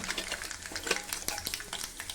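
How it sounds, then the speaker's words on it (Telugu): Tempering seeds, chana dal and mustard seeds, frying in hot oil for a gongura prawn dish, a faint busy crackle and sizzle with light stirring clicks, close but quiet. "ఇప్పుడు తాలింపు గింజ తాలింపు పెట్టుకున్నాం తాలింపు గింజలు వేసుకున్నాం పచ్చెనపప్పు కొద్దిగా ఆవాలు కొద్దిగా"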